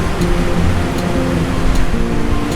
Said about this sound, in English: So I'm gonna pour off the water.